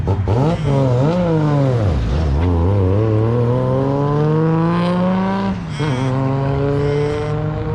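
A 550-horsepower built Nissan Skyline R33 with an RB25DET engine revs hard and accelerates, pitch climbing steadily through loud sustained pulls with brief drops between gear changes, heard close and dominant throughout.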